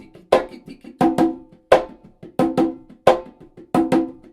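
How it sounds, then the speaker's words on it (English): A conga plays a marcha rhythm with ghost notes, close and loud, in even groups of sharp open slaps and tones with softer taps between them, repeating about six times and with no talk. "in the conga, we're gonna play a marcha"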